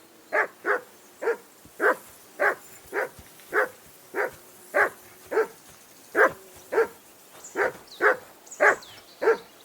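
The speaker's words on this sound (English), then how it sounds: "Whistle at that mutt of yours to stop barking!" A dog barks in the video game Kingdom Come: Deliverance 2, a steady run of about sixteen loud, evenly spaced barks heard up close and alone.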